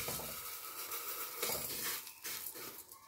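Vermicelli noodles tumbling into melted ghee or butter in a pan, giving a steady close sizzle and frying hiss with light stirring and scraping throughout, no voices.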